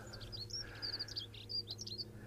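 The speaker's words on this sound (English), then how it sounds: "And the birds twittering away." Small birds twitter in Dorset countryside near dairy and cattle fields, a quick stream of high chirps and tweets over a steady low background hum, fairly faint and without voices.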